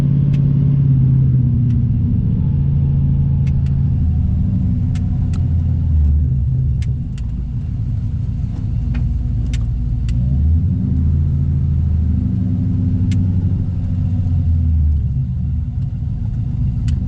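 An LS-swapped BMW E46 engine rumbles steadily while the car drives and turns around slowly, with a loud, close, low drone that holds throughout and carries no speech.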